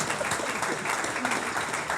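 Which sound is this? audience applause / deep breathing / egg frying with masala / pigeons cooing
audience applause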